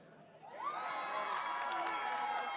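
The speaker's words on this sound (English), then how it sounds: "sounds like cheering here among our Greek contingent" A crowd cheering at a youth water ski jump championship, rising suddenly from a quiet start into sustained shouts, whoops and scattered clapping, heard from some distance and kept up to the end.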